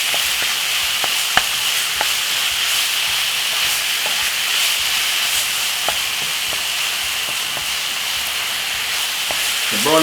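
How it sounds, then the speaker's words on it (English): Half of a 500-gram batch of mince browns in a hot pan at home, giving a steady, close frying sizzle with faint crackles and pops throughout and no talking. "Brown off the meat for about"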